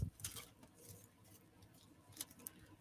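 Scissors cut up a sheet of foil heat transfer vinyl, making a few quiet, crisp snips and light crinkling rustles, faint and close, with near silence between the cuts.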